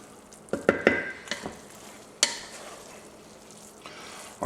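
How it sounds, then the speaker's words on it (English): Sausage jambalaya in a pot gets a brief stir, a cluster of clinks and scrapes followed by a single sharp knock against the pot, then a faint simmer, close and with no voices. "So we're going to give this a quick stir."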